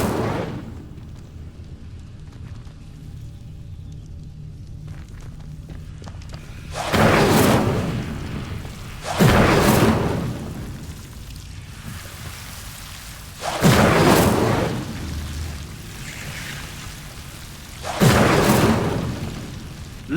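In Hogwarts Legacy, the Incendio fire spell is cast four times. Each cast is a loud whooshing flame burst of about a second, spaced a few seconds apart over a low rumbling ambience, with no speech.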